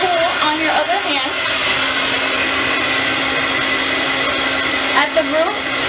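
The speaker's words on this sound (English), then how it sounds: "Give it a nice little cool shot with the blow dryer." A handheld hair blow dryer runs on its cool-shot setting while a stylist cools a round brush at the roots, a loud, continuous whooshing whine with slight wavering in pitch as it moves, heard for several seconds without talking.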